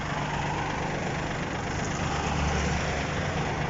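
Mini tractor with a rotary tiller running with reversible drive and hydraulics, a steady low engine idle with a constant vibrating rumble, close and even throughout, no voices.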